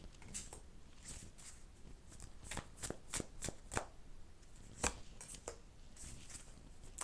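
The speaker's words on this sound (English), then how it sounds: "what I'm going to do is just pull some cards" Tarot cards being shuffled and pulled by hand, a series of soft, quick flicking and slapping card snaps coming in irregular clusters, close and quiet with no talking.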